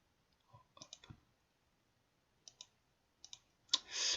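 A computer mouse clicks while someone works in the GIMP image editor: a few sharp, close clicks, a pair spaced apart, then a burst of brighter noise at the end.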